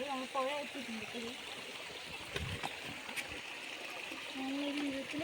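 River water flows steadily by a fishing spot, a continuous close rush and trickle heard throughout, with a person speaking over it at the start and end.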